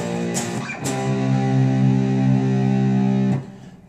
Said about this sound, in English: Power chords are used in rock music when we use a lot of distortion on our amplifiers